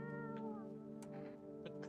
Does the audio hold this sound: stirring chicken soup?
no